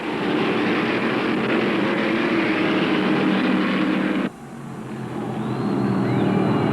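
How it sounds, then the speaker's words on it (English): A 36-car field of 1975 NASCAR Winston Cup stock cars roaring away under the green flag at the Atlanta 500, a loud sustained engine wall that cuts sharply partway through, then builds back up again. "Now the sounds of power split the Georgia air as this fantastic multicolored 36-car field screams under the green flag"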